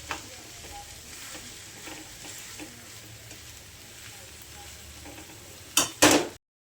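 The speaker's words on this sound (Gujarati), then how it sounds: "આપણે બધા આલુ અંદર મિક્સ કરી નાખીએ તો થઈ જશે. ચમચીથી હું કરું છું." A spoon stirs and scrapes through food sizzling in a pan, with soft repeated strokes under the frying hiss and a few sharper clanks near the end.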